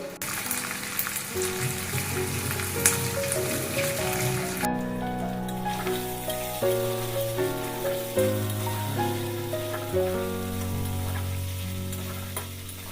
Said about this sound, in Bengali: এই তেলেই আমি দিয়ে নেব আগে থেকে একবার ভেজে রাখ চিকেনগুলো